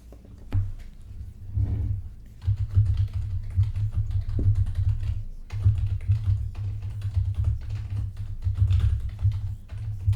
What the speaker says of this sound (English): Jeez, I cannot type on this keyboard.